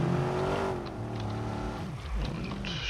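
A car engine in the video game Watch Dogs revs and accelerates while overtaking, a steady droning roar that climbs in pitch early on and then holds under road noise.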